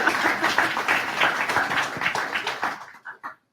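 Audience clapping at a live business pitch talk show, a dense burst of applause that thins out and ends in a few last scattered claps.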